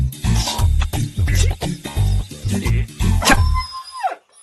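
Dog barking in a rapid series of loud, close woofs with a rough, growling edge, repeating about a dozen times before ending in a falling whine.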